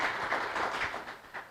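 A church congregation claps together during a worship service: a steady, dense wash of applause at moderate distance, lasting throughout with slight swells and no speech.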